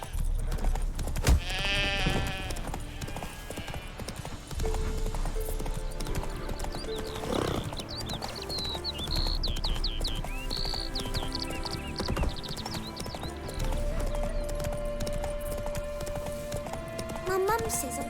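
Horse hooves clip-clop at a steady, rhythmic pace while riding in The Witcher 3 video game, close and continuous, under background music and game sounds, with voices talking throughout.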